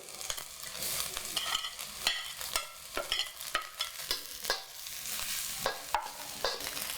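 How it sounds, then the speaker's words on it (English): Garlic being stir-fried in a pan for Indonesian glass noodles, with a busy sizzle broken by repeated scraping and tossing strokes of a utensil, close and fairly loud, no voices. "Now add the garlic."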